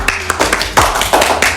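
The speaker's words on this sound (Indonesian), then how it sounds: "Wih, boleh tepuk tangan teman-teman." Podcast guests clap their hands in a short burst of scattered, close claps and taps, uneven in rhythm and lasting under two seconds with no talk over it.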